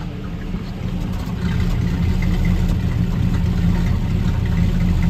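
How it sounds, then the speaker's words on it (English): A 1957 Chevrolet Task Force 3800 tow truck idles with its stock exhaust heard up close on the driver's side, a low steady rumble that grows a little louder partway through and holds evenly. "let's take a listen to this exhaust here"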